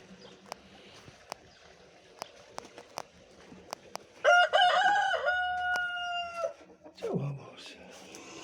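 A rooster gives one loud, close crow after several sharp knocks and clicks, followed by a brief lower call; a voice speaks faintly around it.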